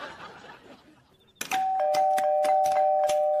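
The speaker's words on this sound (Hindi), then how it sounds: "कौन है जो इतनी रात को शरीफ आदमी के घर की घंटी बजा रहा है?" A house doorbell rings late at night, a short buzz followed by a steady sustained electronic ding tone with repeated clicking presses over it, loud and close with no talking.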